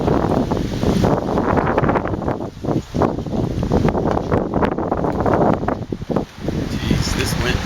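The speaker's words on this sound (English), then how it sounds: "Jeez, this wind." Strong wind gusts buffet the microphone outdoors, a loud, continuous roaring rumble that rises and dips throughout.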